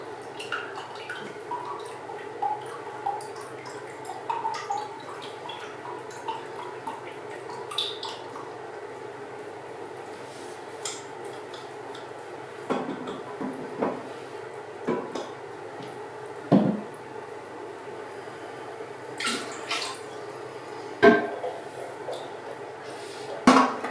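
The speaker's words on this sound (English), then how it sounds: "Trying to catch some of this water, crack the nut loose." Water dripping and trickling from a loosened nut at the bottom of a leaking toilet tank valve, with scattered small drops and splashes repeating irregularly at close range, alone with no talk.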